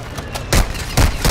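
Gunfire in Call of Duty Warzone 2.0, a few sharp bursts at about half-second intervals cracking over steady game ambience.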